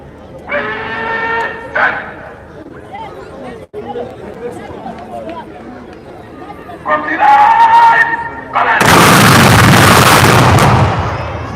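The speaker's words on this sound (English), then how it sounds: "That is his third and final gunshot." A ceremonial gunshot salute at the Gambia's 57th independence celebration: a commentator talks over crowd chatter, then a single loud blast is followed by a sustained roar.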